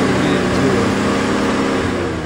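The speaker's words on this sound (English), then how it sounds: "my tires started spinning again" Vintage Willys Jeep climbing Hells Gate, engine revving hard and continuous close by as its tires spin, a dense unbroken roar with no talk.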